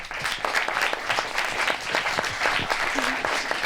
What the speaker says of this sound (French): de recevoir Callisto, si tu veux bien me rejoindre sous vos applaudissements